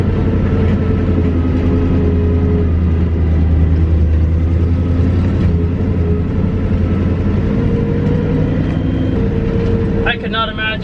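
A 1966 International Loadstar 1600 truck rolls slowly through a neighborhood with a low steer tire, its steady low engine drone running loud and close throughout while someone talks over it.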